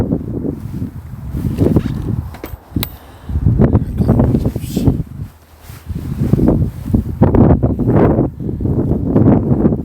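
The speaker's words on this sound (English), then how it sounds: "Chilly, very blustery day" Blustery wind on a chilly day while cycling, loud buffeting gusts roaring against the microphone in surges that rise and fall.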